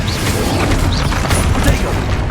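A Confringo spell blast in the video game Hogwarts Legacy makes a loud, continuous booming roar with crackling debris and swooshing spell effects, dense throughout and with no clear pauses.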